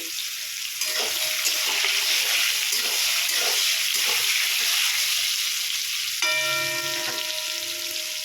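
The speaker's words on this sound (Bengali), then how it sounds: "ঝিঙাটা আমরা একটু ভেজে নেব, ভেজে নামিয়ে নেব।" Sliced ridge gourd frying in hot oil in a pan, a steady close sizzle with occasional stirring scrapes, running alone without talk for the whole stretch.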